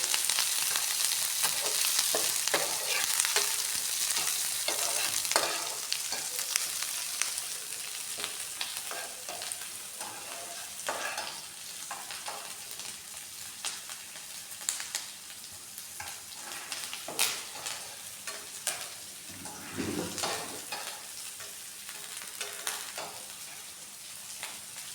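Onions and curry leaves sautéing in a pan for a cabbage pepper stir-fry, with a steady close sizzle and irregular scraping stir strokes that go on throughout without any talk.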